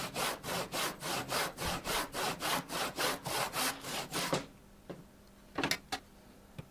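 A hand saw cuts a piece of wood held on a clamped bench hook, with about fourteen steady, rhythmic rasping strokes, close and clear, then a few faint knocks once the sawing stops.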